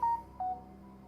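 A mobile phone gives two short electronic tones in quick succession, clear and fairly close, each lasting a fraction of a second over a quiet background.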